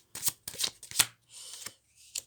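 A deck of tarot cards is handled and flipped over, giving several close, papery swishes and flicks in short uneven bursts with brief pauses between them.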